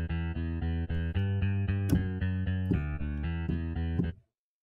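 A bass repetitions guitar patch from the Indie Fingers sample library repeats low plucked guitar notes in a steady rhythmic pattern. The notes are clean and close, with a brief bright accent midway, then stop abruptly.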